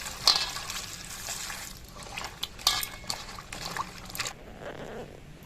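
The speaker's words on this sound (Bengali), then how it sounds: "সবজিগুলো আমি লম্বা করে কেটে নিয়েছি, এগুলো ধুয়ে পরিষ্কার করে নিচ্ছি।" Long-cut vegetables rinsed by hand in water in a home kitchen, with soft splashing and sloshing plus light clinks of a pot or bowl, close and steady with short louder bursts.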